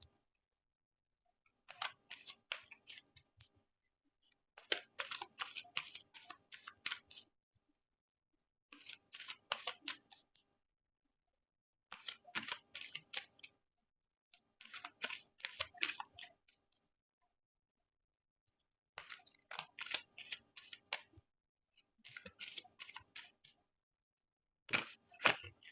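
Tarot cards being shuffled and drawn from the deck, about eight separate bursts of rapid crisp card clicks and riffles divided by brief silences, close and fairly quiet with no talking.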